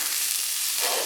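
Food for upgraded ramen fries in a pan with a steady, close, hissing sizzle, briefly swelling toward the end, with no voices.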